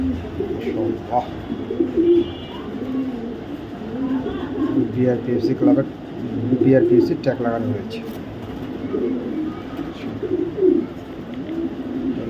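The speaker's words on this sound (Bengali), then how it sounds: "এক জোড়া রেড চেকার বেবি কবুতর" A pair of young red checker racer pigeons coo in low, bubbling phrases, close by, while someone talks over them almost throughout.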